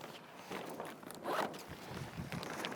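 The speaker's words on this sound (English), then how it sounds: "zip up all your cams" Sail cams on a Moth sailboat are zipped up with a short close zipper rasp and a couple of quick pulls, standing alone with faint handling noise.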